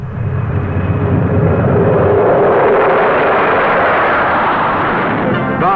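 An airliner takes off from Heathrow in 1970, its jet engines a loud, broad, continuous roar that holds steady for several seconds, with no voices heard.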